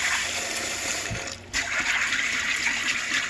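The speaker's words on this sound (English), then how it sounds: "Get the water just over the beans, slosh them around, and then drain this off a couple of times" Dry black beans being washed, sloshed and drained in a container of water in a home kitchen, a steady close splashing and pouring with a brief pause midway.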